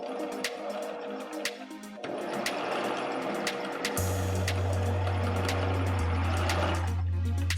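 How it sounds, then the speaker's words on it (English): A sewing machine runs a straight stitch in steady whirring bursts, close and loud, pausing briefly before settling into a continuous hum with faint clicking. "And then I'm going to sew that end down. I'm just using a straight stitch, but I'm going to go over this a couple of times."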